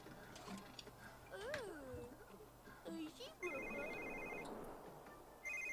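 A telephone rings in The Sims 3, repeated electronic trills alongside game chimes and ticking, while someone talks in German over it.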